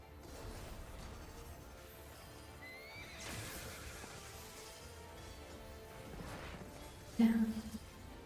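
A mount horse in Final Fantasy XIV gives a clear whinny with clip-clopping hooves amid game background sounds, followed by a brief louder clatter near the end.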